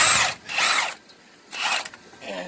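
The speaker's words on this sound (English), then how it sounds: "You can do that one with an impact gun." An impact gun takes the top nut off a ball joint on a 2004 Ford F-350 Super Duty. Two loud, close, buzzing bursts about a second long, separated by a brief pause, with a softer third burst trailing off.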